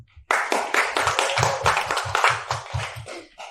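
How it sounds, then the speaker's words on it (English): Audience applause at a Web3 holiday food drive event, heard as a fairly close run of quick, evenly spaced claps that keeps a steady rhythm, then tapers off softly at the end. "So maybe could we have another round of applause for that?"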